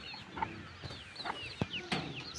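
Local chickens cluck softly on a farm where several birds are kept, with short scattered calls overlapping in a quiet, uneven rhythm.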